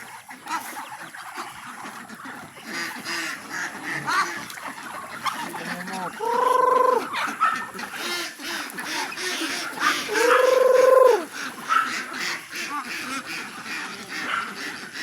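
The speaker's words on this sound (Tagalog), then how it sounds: "sinabakain na ni Ashley yung alaga nating mga manok, mga idol, at saka pato" At farmyard feeding time, two short bursts of honking, quacking duck calls stand out over a steady murmur of chickens and background voices, one near the middle and one later.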